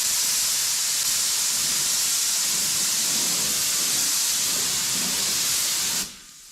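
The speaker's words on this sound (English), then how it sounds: "we are ready for some base coat. I like to go through and hit all my edges" Spray gun laying base coat over black sealer on an OBS Chevy truck, a loud steady pressurized hiss held close for about six seconds before cutting off abruptly.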